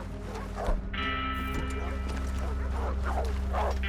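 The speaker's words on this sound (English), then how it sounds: "I'll keep these dogs at bay" Dogs barking and yipping in the Red Dead Redemption 2 game world, a few scattered barks over a steady droning game soundscape with music and talk throughout.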